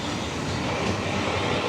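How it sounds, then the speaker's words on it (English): A train rumbling past at a railway station on the former LSWR line, a continuous loud broadband roar with no pauses, close by. "So there goes my train"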